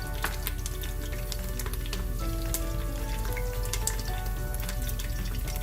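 Whole spices sizzle and fry in hot oil in a pan, a steady crackling hiss with scattered sharp pops, close and continuous with no talk.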